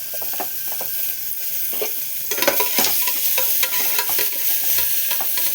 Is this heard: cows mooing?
no